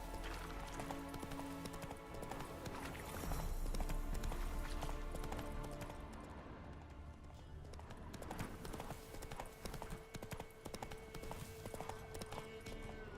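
Roach, the horse in The Witcher 3, gallops in a steady rhythm of clip-clopping hooves over the game's ambient music, faint and continuous without a break.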